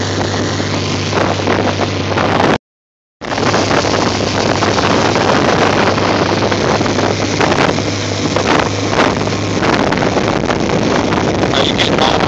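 A motorboat speeds along at high speed, its engine drone steady and loud beneath heavy buffeting wind noise on the microphone, cut by a brief dropout early on.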